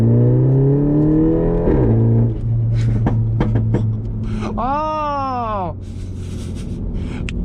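A 2018 Mini Cooper S engine revs up and falls back, followed by crackling exhaust pops and a rising whine, heard close with someone speaking briefly over it.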